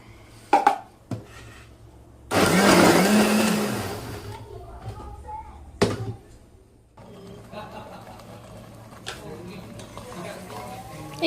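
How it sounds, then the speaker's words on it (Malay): A loud electric blender whirs for about two seconds amid scattered clatter and knocks, with quieter kitchen sounds after it stops. "blender"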